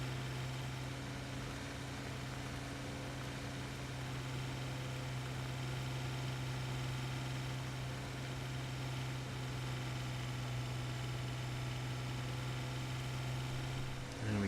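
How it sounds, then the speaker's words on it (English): Hard-working tractor engine in Farming Simulator 17, a steady loud droning hum with a low tonal growl that holds unbroken throughout, with no talking. "This is probably the hardest working engine, or at least it sounds like it's the hardest working engine in the game."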